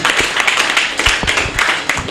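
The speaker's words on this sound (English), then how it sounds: "I think we should applaud ourselves" An audience applauds at a gathering. The dense, close clapping runs steadily for about two seconds.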